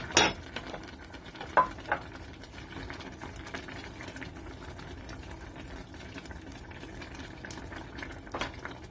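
Leek whites cooking in a pot of fish pepper soup with sorrel and spinach, giving a steady low simmering bubble and faint sizzle, broken by a few soft clinks and stirs.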